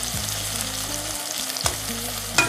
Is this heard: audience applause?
no